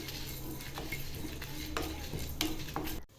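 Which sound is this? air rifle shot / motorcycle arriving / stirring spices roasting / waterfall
stirring spices roasting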